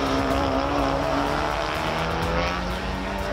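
BTCC Honda Civic race cars scream past at the finish line in a loud, sustained engine roar, several cars blending into one dense, near, high-revving drone with no pauses.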